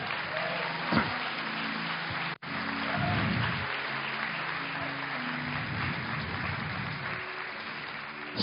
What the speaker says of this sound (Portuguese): Aplaude isso em nome de Jesus